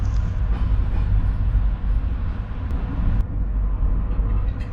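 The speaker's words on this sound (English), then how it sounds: "here we are rolling into Zagreb Central Station at 11:33, right on time." A EuroNight train rumbles steadily into Zagreb Central Station, a continuous low rolling drone of wheels and carriages heard from on board, with faint squeaks and clicks over the top.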